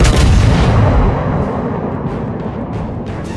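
A warship's main guns fire in World of Warships as one very loud, deep blast that rolls off into a fading rumble, with a few faint later thumps and no talk.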